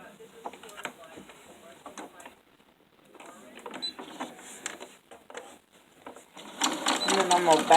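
A sewing machine stitches fabric for small gift sacks in short bursts separated by pauses, growing louder toward the end, with a person speaking between runs.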